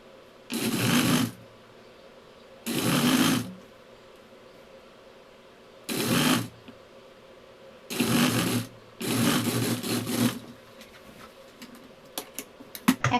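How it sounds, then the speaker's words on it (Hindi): A sewing machine stitches fabric sleeves for a chikankari panel kurti in five separate bursts of close, rapid mechanical clatter, with short quiet gaps between them and light handling noises at the end. "देन स्लीव्स को इस तरह से घुमाते हुए एक्स्ट्रा फैब्रिक फोल्ड करते हुए हम इस पर सिलाई लगाएंगे"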